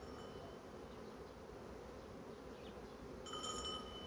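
A honey bee hums beside a hive feeder. The buzz is faint and steady, continuous against a quiet background, with slightly brighter high tones near the end.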